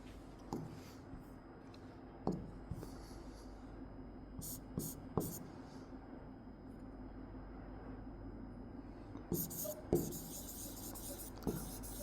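Faint scratching of a pen writing a statement by hand during a coordinate geometry lesson, with soft strokes and a few sharper taps over a low background hum, no talking.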